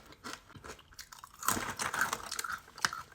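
Crunchy 100% mango crisps being chewed up close, with irregular soft crunches and bites that grow busier and sharper partway through, fairly quiet and with no talking.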